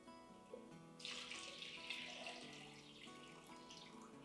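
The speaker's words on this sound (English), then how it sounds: "And add water." Water poured from a tap or jug into a glass of mango mojito infused water with a handful of dried mango and mint, a steady close splashing fill lasting several seconds with no talking.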